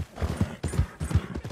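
Horse hooves clip-clopping at a quick pace in the Red Dead Redemption 2 video game, steady rhythmic thuds close up with no talk over them.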